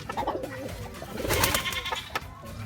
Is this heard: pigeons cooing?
yes